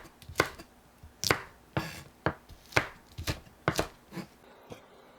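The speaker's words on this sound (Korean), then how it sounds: "고추를 썰어주세요." A knife chops chili peppers on a board in about a dozen sharp, close knocks at an uneven, brisk pace, with no talking.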